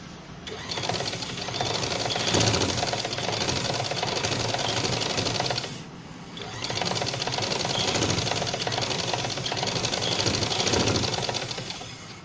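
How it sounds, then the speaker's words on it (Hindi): A sewing machine stitching a designer sleeve runs in two long, steady bursts of rapid needle chatter with a brief pause between them, loud and close, no speech. "फिर उसके ऊपर एक और सिलाई लगाएंगे"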